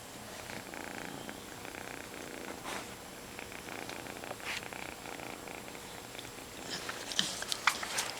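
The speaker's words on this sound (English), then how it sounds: "You might even be able to hear the sucking." A kitten nursing from a non-pregnant dog purrs steadily and softly up close, with faint wet suckling and chewing-like sounds in a quiet morning room.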